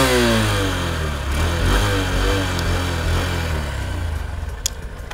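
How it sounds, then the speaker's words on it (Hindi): Honda SP125 motorcycle with its smoother exhaust note running close by, a steady mid-pitched engine drone with gentle revs that settles toward idle, no speech. "तो ये आपने इसका एग्जॉस्ट नोट सुन लिया"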